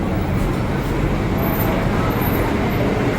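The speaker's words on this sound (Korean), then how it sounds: "저 들어오는 버스가 요거네" A bus pulls into a stop at Kuala Lumpur and idles there, a steady loud engine rumble mixed with roadway traffic noise that continues without a break.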